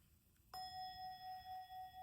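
A meditation bell is struck once and rings out clearly, its pure tone sustaining and slowly fading in a quiet room.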